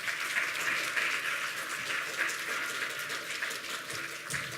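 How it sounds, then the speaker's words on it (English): A conference audience applauds Glennis, a steady wash of many hands clapping together at moderate loudness, continuing evenly without speech. "Let's all give Glennis a big round of applause."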